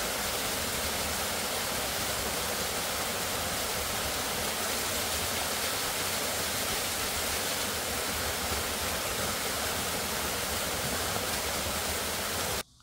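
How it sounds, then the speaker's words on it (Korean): A waterfall in a mountain valley on Cheondeungsan in Wanju, a loud continuous rushing roar of falling water, steady and close, then cutting off abruptly at the end. "시원한 폭포에서 나가기가 싫었는데 어쩔 수 없이 나오게 됩니다."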